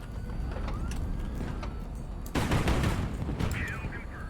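Gunfire striking an aircraft in HighFleet, a rapid crackle of shots with a louder, denser burst of impacts partway through over a constant low engine drone, with some quiet talk underneath.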